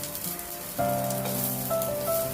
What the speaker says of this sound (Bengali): পেঁয়াজগুলো দিয়ে একটু পেঁয়াজটা একটু ভাজা ভাজা হবে